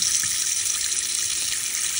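Tap water pours steadily into a pot on a stove, a continuous close hiss and splash with no talking, while noodles are being prepared.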